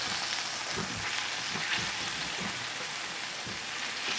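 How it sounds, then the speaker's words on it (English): Keto shrimp scampi with oregano is stirred in a pan, a soft continuous sizzle under evenly spaced scraping strokes of the utensil. "I'm just gonna give this a good stir."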